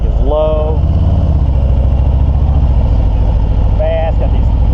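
Harley-Davidson Breakout motorcycle engine rumbling steadily and loudly during a ride, a continuous low throb with a brief rise in pitch, while someone talks over it.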